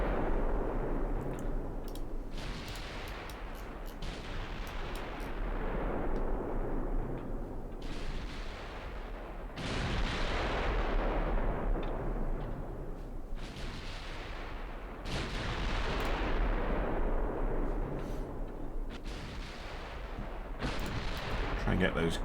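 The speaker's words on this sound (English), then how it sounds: "Let's get all the guns firing." Guns firing in an artillery barrage, with heavy booming blasts bursting out every couple of seconds over a continuous rumble, loud and sustained across the whole stretch.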